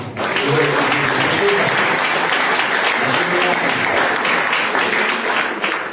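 A church congregation at a Fathers' Day service breaks into sustained applause, loud and dense for several seconds, with voices mixed in beneath the clapping.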